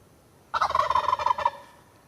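A turkey gobbles once in a loud, close, rapid rattling burst of about one second, standing alone against a quiet background.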